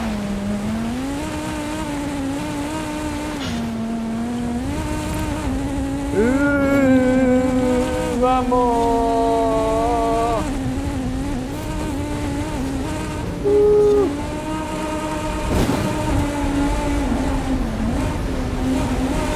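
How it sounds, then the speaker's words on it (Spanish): Tyres sliding and engine droning as a car drifts across frozen ice in Forza Horizon 5, a long steady whine with shifting engine pitch that rises midway, continuous and fairly loud with no talk. "Miren qué derrape tan largo."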